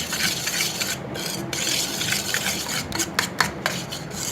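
Cream and powdered sugar being mixed in a bowl, a continuous close scraping and rubbing of a utensil against the bowl with a steady rhythmic texture and no talking.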